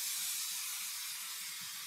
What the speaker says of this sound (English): I'm doing this just so you guys can see approximately how much spray adhesive I need